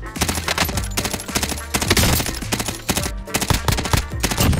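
Suppressed gunfire from a weapon in Call of Duty Warzone, a burst-fire gun, rattles out in rapid repeated volleys of muffled thuds and snaps, loud and close, with short pauses between bursts.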